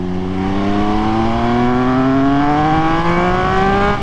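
A Triumph Speed Triple 1200RS motorcycle fitted with a Pro-Race GP-R3R exhaust accelerates steadily, its engine note climbing smoothly through the gear, loud and close to the rider.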